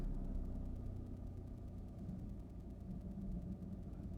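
A low engine hums and rumbles steadily, like a car idling or running at low speed, with no talking.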